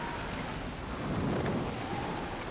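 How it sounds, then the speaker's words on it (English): Wind blowing over open sea in a sailing video game: a steady, fairly quiet whooshing rush with no voices. "Wow, it is windy out here."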